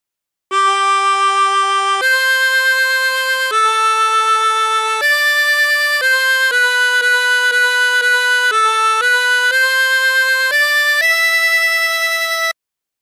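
A harmonica plays a phrase of My Bonnie Lies Over the Ocean as a clean sequence of about a dozen sustained single notes, stepping up and down in pitch, loud and alone.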